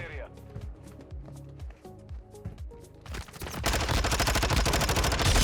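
Rapid submachine-gun bursts crack loudly in a first-person shooter, the Vaznev 9K SMG firing in quick strings with other gunfire and game sounds around them, building to a dense, sustained volley at the end while someone talks over it.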